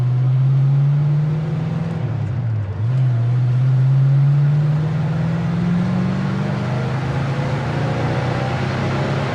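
A 1973 Ford Mustang Mach 1 engine drones loud and close, with one brief dip in pitch as it comes off the throttle before climbing steadily again under load. No one speaks.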